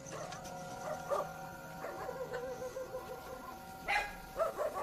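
Dogs bark in short, scattered bursts of several yaps and yips at a middle distance near a village in leopard country, over quiet outdoor ambience.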